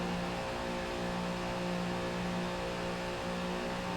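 A NASCAR race car engine in Forza Motorsport at Homestead Speedway drones with a steady, tonal growl, held at an even, moderately loud level with no voices over it.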